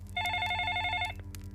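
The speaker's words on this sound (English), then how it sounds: "Then my phone rang again." A telephone rings with a bright electronic trill, one sustained ring burst followed by a short pause and faint clicks, close and clear with no talking.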